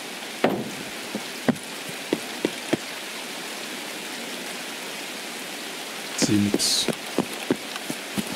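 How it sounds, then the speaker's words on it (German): Steady rain hiss in the video game Escape from Tarkov, with scattered sharp clicks and thumps, and a brief muffled voice near the end. "Jetzt regnet es eh, ich höre keine Schritte mehr."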